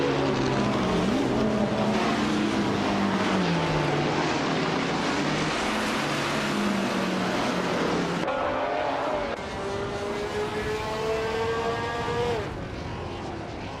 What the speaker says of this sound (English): The cars are tearing up the track here at Ruapuna Park